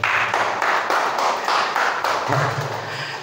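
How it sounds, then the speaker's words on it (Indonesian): A small audience at a motivation day event at a vocational centre claps in a few loose, uneven bursts, close and moderately loud, with a low tone appearing near the end. "tepuk tangan buat pada."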